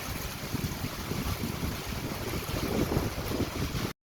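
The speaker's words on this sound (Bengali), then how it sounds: "সকালবেলা ঘুম থেকে উঠে দেখি বৃষ্টি পড়ছে আর শুধু বৃষ্টি না সাথে অনেক বাতাস" Strong wind blows steadily with rain falling outside a balcony in the morning, a continuous broadband rush that swells slightly toward the end, loud and close, with no voices.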